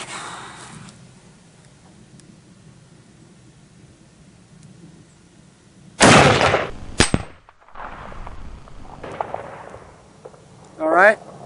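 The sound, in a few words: rifle shot with 180 grain soft nose bullet at steel target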